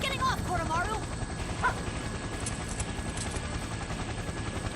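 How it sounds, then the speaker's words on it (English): A helicopter descending toward a rooftop in Persona 4 Arena Ultimax, a steady droning whir heard at moderate level under people talking. "the helicopter had descended close enough to the roof of the Junes"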